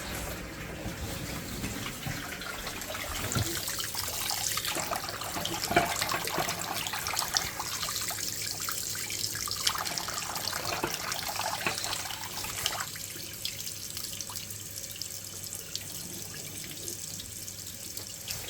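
Hot water runs steadily from a household tap fed by a Glow-Worm Ultracom boiler, a continuous hissing splash that shifts slightly in tone partway through, with no talking.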